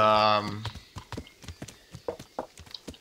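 Horse hooves clip-clopping in the Kingdom Come: Deliverance video game, a steady walking rhythm of sharp hoof knocks after a brief neigh-like tone at the start.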